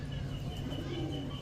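Red Gorra pigeons, a pair of male and female boot-beaked birds, cooing in soft low continuous murmurs close by, with faint chirps above a steady background hum.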